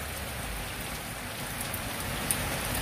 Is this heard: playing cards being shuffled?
no